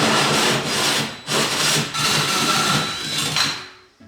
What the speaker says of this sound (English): So I'm gonna drill the first one now.